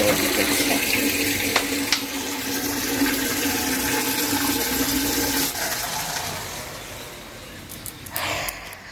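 Water pouring and filling in a household in the morning: a loud, steady rushing gush close by that tapers off near the end, with no talk.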